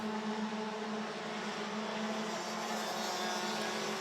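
DD2 racing karts on the last lap of a race, engines buzzing in a steady high drone at moderate distance with no other sounds standing out.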